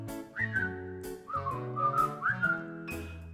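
A bright, clear whistled melody in a song rises and glides through several sustained notes over a soft instrumental backing, loud and close.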